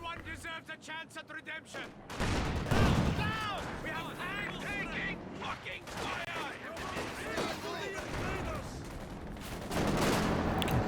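Rapid machine gun bursts and battlefield fire in a Company of Heroes 2 1v1 match, loud and continuous across the clip and layered with other combat noise under a running voice.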